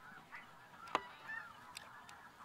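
Canada geese honk faintly at a distance over a goose decoy rig in an Alberta field, a few scattered calls with one sharper honk near the middle.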